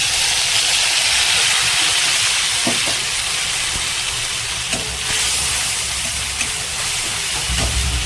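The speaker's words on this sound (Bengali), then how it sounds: "রাঁধুনি ফোড়ন দিয়ে দেবো।" Radhuni seeds hit hot oil in a pan, giving a steady, loud sizzle and hiss that carries on without a break, with a few faint clinks of utensils in the background.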